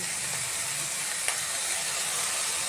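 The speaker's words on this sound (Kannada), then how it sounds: "ಇದು ಚೆನ್ನಾಗಿ ಫ್ರೈ ಆಗಲಿ ಸ್ವಲ್ಪ ಹೊತ್ತು" Field beans with greens and tomato fry in a pan, a steady close sizzling hiss with a single sharp tap partway through.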